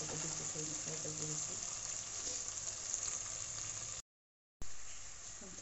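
Paneer frying in a pan until golden brown makes a soft, steady sizzle with some faint stirring, then a short gap of silence and a return of the frying.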